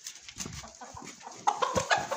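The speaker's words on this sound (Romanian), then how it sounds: "Uitați aici găinile." Chickens out grazing cluck in a short run of close, distinct calls, a few soft notes at first and then brighter, busier clucking near the end, with no talk over them.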